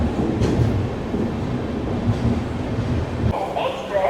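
Weekly express train 17428 from Narasapur rolls into Tirupati station, a loud steady rumble of wheels and carriages with clattering, fading near the end as people's voices rise in the background.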